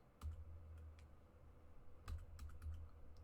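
Computer keyboard typing in quiet bursts of soft clicking keystrokes, faint and close, with short pauses between clusters and no talking.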